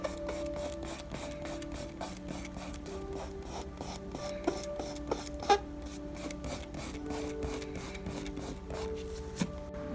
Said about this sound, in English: I can pull off the masking fluid, and I'll just use my finger and just gently remove